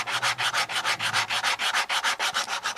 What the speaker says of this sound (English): Those little carbide sanding blocks are real handy for doing that.